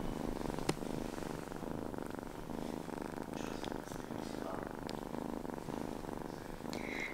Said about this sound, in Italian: Adesso è in modalità fusa.